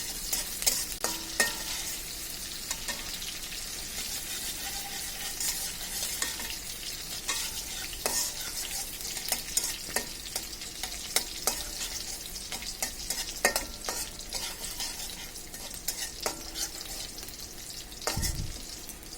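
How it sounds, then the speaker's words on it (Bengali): Onions sizzle in a hot pan for a hilsa fish head and ash gourd curry, with a spoon scraping and stirring at irregular intervals, close and fairly quiet, no talking. "পেঁয়াজ অত ভাজার প্রয়োজন নেই"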